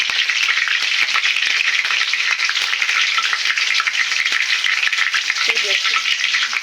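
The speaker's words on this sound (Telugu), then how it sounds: "ఆఫ్ చేసి ఇలా కరివేపాకు పచ్చిమిర్చి వేయించండి." Curry leaves and green chillies frying in hot oil in a pan, a loud, steady, dense sizzle with crackling pops throughout and a brief stir toward the end, no talking.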